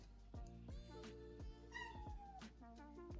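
A house cat gives a string of short meows, several in quick succession, near and clear, with no talk over them.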